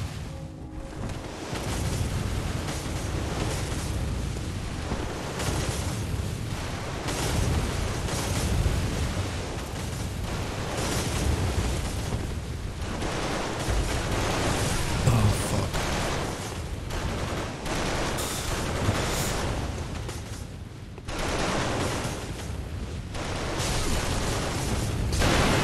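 Booming cannon fire on a bridge in the Bloodborne Hunter's Nightmare area: a dense, continuous roar of heavy blasts and rumbling impacts, loud and sustained throughout with only slight dips.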